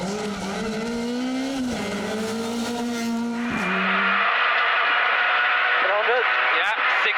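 An Opel Adam rally car in the two-wheel-drive class races on a tarmac rally stage, its engine note rising and falling through gear changes, then a higher in-car engine whine with a co-driver calling pace notes over it.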